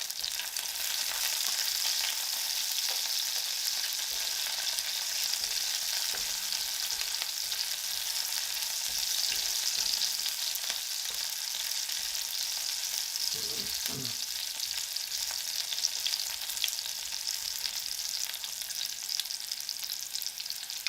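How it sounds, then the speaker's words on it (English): Lard frying in a pan while mole is cooked, a continuous close sizzle with a steady hiss and a few brief clatters partway through, no talking. "Just gonna add a little bit of lard here."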